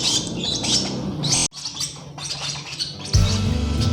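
Baby lovebirds chirp and squawk before feeding, a dense, loud chorus of high, insistent calls that continues almost without pause, with a brief break midway and a low rumble near the end.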